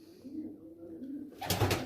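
Homing pigeons coo softly in a loft, a low murmuring call running steadily and rising into a louder, fuller burst near the end.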